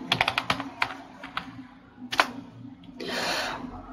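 Quick bursts of typing on a computer keyboard, with clustered key clicks near the start and a few isolated taps, followed by a softer, longer rustling stretch at the end.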